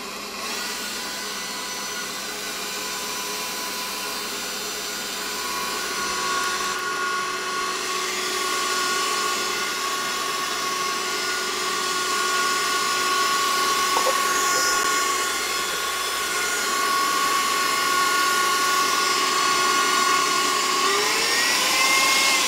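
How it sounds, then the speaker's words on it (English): An electric mixer whirs steadily and loudly, whipping egg whites into a frothy meringue for French macarons, a continuous high motor whine that runs unbroken and rises slightly in intensity, with no talking over it. "we're gonna add the other egg white to the mixer. And we're gonna get this nice and frothy"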